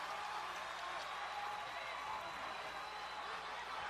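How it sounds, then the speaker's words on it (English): A crowd fills the Singapore Indoor Stadium during a ONE FC mixed martial arts bout, a steady, faint, distant roar of cheering that holds without a break. "Listen to this crowd at the Singapore Indoor Stadium"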